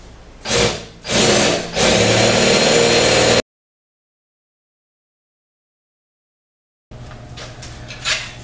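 A power drill whirs loudly in short bursts, then runs steadily, stops for a silent pause, and resumes more softly near the end, drilling a hole in a sink top.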